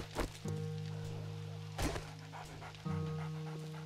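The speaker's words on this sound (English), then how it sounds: "Oh, dog horde" A horde of dogs pants in the 7 Days to Die video game: close, rapid breathy panting with a few thumps under a droning hum.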